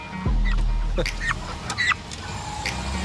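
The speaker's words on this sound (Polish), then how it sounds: "i kurczaki jadą z nami." Chickens being driven away with a van on the way to a slaughterhouse cluck in short nearby bursts over a steady low engine rumble, a few sharper calls standing out.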